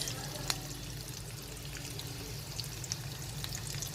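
Onions frying in a pan for vegetable upma give a steady, moderately quiet sizzle and crackle, with a faint low hum beneath and a few sharper pops.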